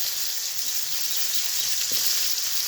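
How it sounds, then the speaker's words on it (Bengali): Bitter gourd frying in the same mustard oil used for potatoes makes a steady close sizzle, with a faint tap near the end and no talking. "আলু ভাজা ওই তেলেই করলাটাও ভেজে নেব খুব ভালোভাবে।"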